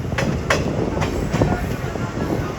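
The Nabadwip Dham Express rolls into Jangipur Road station with steady rumbling and rhythmic clicks of wheels over rail joints, loud and close from inside the train.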